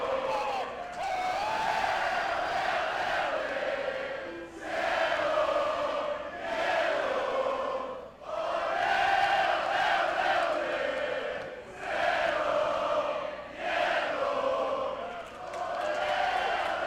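Large wrestling crowd at an indie pro-wrestling show roaring and chanting for Penta in rhythmic swelling waves, loud and sustained, with brief dips between surges.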